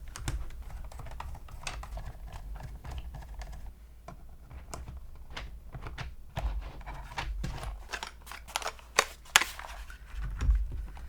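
Keystrokes on a Glorious GMMK3 HE 75% gaming keyboard: irregular clusters of crisp, close clicks and clacks, with a few louder bottom-out taps near the end and no talk.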